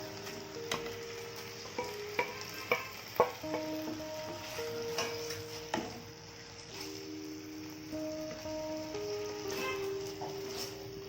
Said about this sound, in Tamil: கிழங்கு வேக வச்சு தோல் எடுத்து கட் பண்ணி வச்சுருக்கிறேன், போட்டுடலாம்